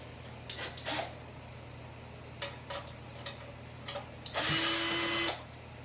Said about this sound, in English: I'm using a drill, but it's just the fastest way.